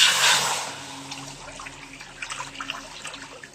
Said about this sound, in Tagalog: At maglalagay na rin ako ng tubig sa kawali.